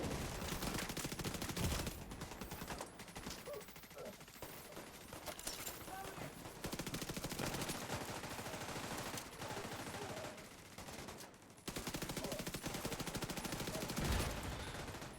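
Gunfire in the video game The Division 2, dense bursts of shots and fusillades running through the whole stretch at steady loudness, with players talking over the shooting.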